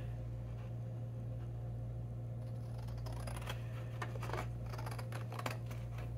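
Scissors snip through card while making a card holder folder, a string of crisp cutting clicks over a steady low hum, growing busier toward the end.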